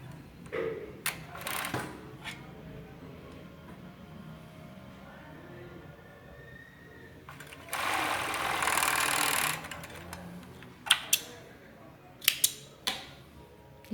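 A sewing machine stitches the seam of a girl's cabbage-style panty, a close, steady whirring run for a couple of seconds mid-clip, framed by quieter handling of fabric and a few sharp clicks and taps.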